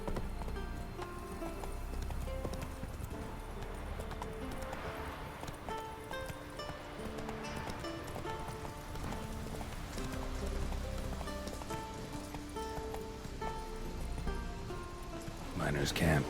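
A horse gallops in The Witcher 3 video game, its hooves drumming a steady, rapid clip-clop over a continuous bed of game music and ambience, with a neigh toward the end.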